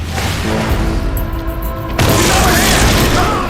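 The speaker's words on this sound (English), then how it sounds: "How many times do I have to shoot her before she surrenders?" A gunshot blast cracks loudly in the shooter Darkness II, a sudden broadband burst after a tonal hum, followed by sustained noisy rumble and ringing.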